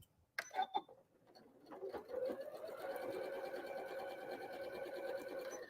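A sewing machine stitches a Tulip Star quilt block. After a few brief clicks and handling noises, it runs as a steady, close, continuous whir for several seconds, with no talking.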